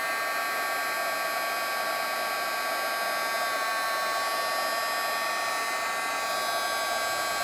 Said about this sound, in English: Once the heat gun gets up to temperature, it embosses very quickly.